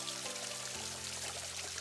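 Water from a gravity-fed hill supply pours and splashes steadily, a dense continuous rush close by with no voices.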